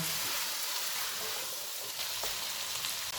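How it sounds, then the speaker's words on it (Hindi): Carrots, potatoes and peas frying with keema in a pot, a steady close sizzle with bright crackling and small popping spits, alone without voices. "इनको 2 से 3 मिनट तक भूनेंगे।"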